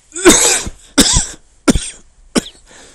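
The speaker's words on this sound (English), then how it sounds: "If we can pretend to have a cough" Four separate harsh coughs from one person at roughly even intervals, close and loud with brief silences between them.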